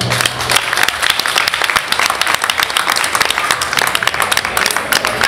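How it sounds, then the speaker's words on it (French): An audience at an investiture ceremony in Duékoué applauds Mme Guidibo with dense, loud, sustained clapping that fills the whole stretch, a brief low hum at the start. "applaudisse très fortement Mme Guidibo"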